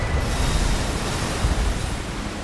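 A waterfall in the video game Elden Ring Shadow of the Erdtree pours as a dense, steady rush of water, loud and close, with no other sounds.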